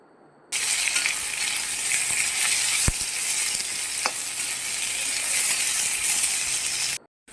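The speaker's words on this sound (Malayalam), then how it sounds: "പിന്നെ ഒരു രണ്ട് സവാള കണം കുറച്ചരിഞ്ഞത് ചേർത്ത് കൊടുക്കാം" Sliced onions and slit green chillies fry in hot oil for a beef liver dish, a loud steady sizzle starting abruptly and running throughout, with a couple of sharp utensil clinks against the pan.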